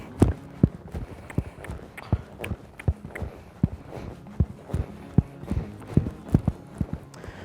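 A horse's hooves on the footing of a riding arena during dressage-style circle work, shifting between walk and trot: steady, fairly close clip-clop beats, quickening and slowing, with no voices.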